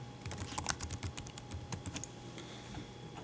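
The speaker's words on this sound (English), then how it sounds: "If I could type." Rapid, light clicking of fingers typing on a computer keyboard, a burst of quick irregular keystrokes that slows toward the end, close but quiet.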